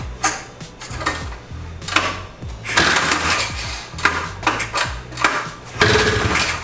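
A 1979 Honda Odyssey FL250 engine is pull-started with no throttle, giving a rough, uneven run of clattering, sputtering bursts over a low, throbbing mechanical drone, loud and close.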